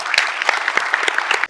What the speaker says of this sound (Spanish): un fuerte aplauso a las compañeras